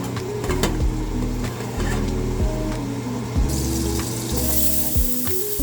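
Butter, garlic, onion and seasoning pepper fry in a hot pan with a steady sizzle, broken by scraping stirs and a few clanks of a utensil against the pan.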